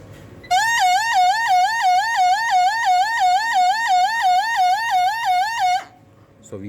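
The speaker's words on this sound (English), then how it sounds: "that is the buzzer, and we also call this the hooter" A buzzer or hooter on a PLC-controlled servo motor setup blares a loud, warbling emergency alarm tone, wavering rapidly up and down in a steady siren-like cycle for about five seconds before stopping abruptly.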